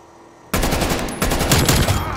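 Turret gunfire in the video game Call of Duty: Black Ops Cold War erupts suddenly after a quiet moment, a loud, close, continuous rapid stream of shots that keeps going without a break.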